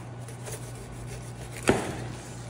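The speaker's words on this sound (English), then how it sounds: "If you aim for one of these, you can cut through it easily with a non-serrated knife" A single sharp crunch as a 12-inch non-serrated Dexter knife cuts through a swordfish spine at the joint, close and brief, over a steady low background hum.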